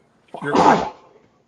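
A single close, explosive sneeze bursts out briefly and fades quickly, with no other voices around it.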